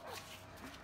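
A dog gives a short bark or yip outdoors near a shop, one brief sound in under a second against background noise.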